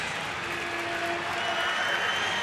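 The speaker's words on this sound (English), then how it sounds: "We're crowd into it. Ballpark rocking right now" Baseball ballpark crowd in Washington cheering a leadoff double by Zimmerman against Philadelphia, a loud sustained roar with a faint tonal horn or whistle running briefly underneath.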